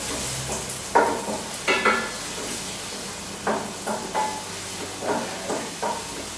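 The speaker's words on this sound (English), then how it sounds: "just start moving this around the pan" Food frying in a pan over medium heat, a steady hiss with a series of scraping, clattering stirs spaced every second or so, close by and with no one speaking.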